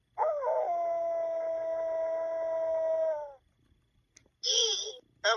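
A dog sound effect from a LeapFrog Tag Reader book: a long electronic howl-like bark held for about three seconds, then a short pause and a second brief yelp, loud and close with no talking.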